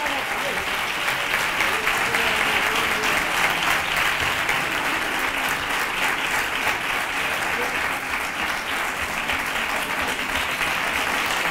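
Sustained crowd applause at the crowning of the Three Kings in Nerva, a dense, even wash of many hands clapping outdoors with no break, a voice faintly audible in the mix.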